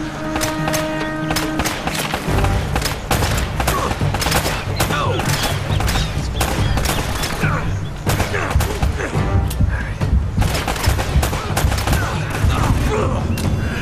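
Sustained rapid AK rifle gunfire in the video game Uncharted: Drake's Fortune, dense overlapping bursts and shots running loud and continuous throughout, with game sound beneath and no clear speech.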